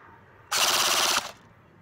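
A CYMA AKMS full metal airsoft AEG fires one loud, close burst on full auto lasting under a second, a rapid mechanical buzz of shots against a quiet background.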